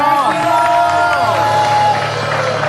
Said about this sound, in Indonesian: boleh kasih tepuk tangan buat Vino